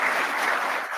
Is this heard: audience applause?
yes